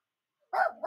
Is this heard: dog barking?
yes